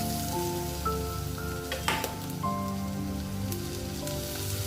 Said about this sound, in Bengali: গ্যাসের ফ্লেমটাকে একদম কম করে আমি এগুলোকে ফ্রাই করে দিচ্ছি।